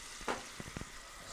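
A pan of spicy German mustard sauce simmers and reduces, giving a soft, faint sizzle with a few small pops and bubbles.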